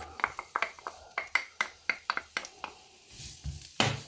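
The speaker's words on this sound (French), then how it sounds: "Je vais y mettre de l'huile de pépins de raisin. Comme ça, c'est assez neutre. Et je vais y faire revenir mon oignon rouge" Red onion sautés in grapeseed oil in a pan, with a steady run of sharp spatula taps and scrapes followed by a brief rise of sizzling close by.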